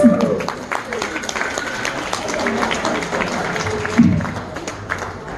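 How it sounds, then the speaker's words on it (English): A comedy club audience applauds and cheers as a comedian is introduced, with mixed clapping and crowd noise, a burst around the fourth second, and voices mingled in. "How about a big round of applause for Russ Kofroff?"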